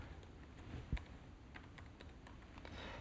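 Faint clicks of computer keyboard keys being pressed, a scattered series of light taps with one slightly louder press, in an otherwise quiet room.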